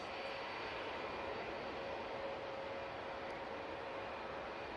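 A Boeing Dreamliner passenger jet lands at Manchester Airport, heard as a steady, broad engine roar with a faint whine, constant and moderately loud from a distance, with no talk.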